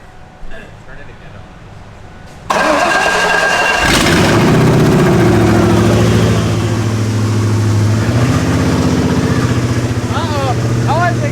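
A Ford Ranger with a swapped 5.0 V8 fires up for the first time, with its oil not yet fully filled, and settles into a loud, steady, close run.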